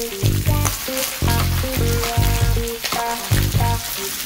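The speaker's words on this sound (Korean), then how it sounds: "썰어둔 채소들을 같이 넣고 볶아주세요." Sliced garlic and chopped vegetables stir-fry in oil for shrimp gambas, giving a steady close sizzle with stirring scrapes, under continuous background music with no talking.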